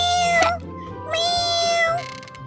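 A cartoon grey kitten gives two high, tonal meows in quick succession, bright and close, with a brief gap between them and light background music.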